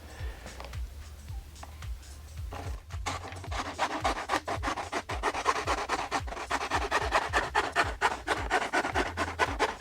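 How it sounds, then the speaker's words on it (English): A regular hand hacksaw cuts through the rear subtray of a 2007–2012 Honda CBR600RR. Close, steady back-and-forth rasping strokes start after a quiet few seconds and keep a brisk, even rhythm with no talking. "I will use a regular hacksaw"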